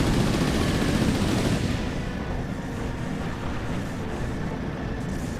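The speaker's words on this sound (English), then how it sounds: "That's all my Gatling cannons gone." Gatling cannons on a mech in the Xbox 360 game Chromehounds fire in a continuous loud roar of rapid gunfire that fills the whole stretch, easing slightly midway.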